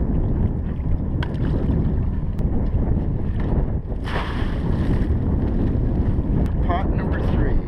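A motorboat engine drones steadily on Yaquina Bay during a summer Dungeness crabbing trip, loud and constant, with wind buffeting the microphone and water noise around it.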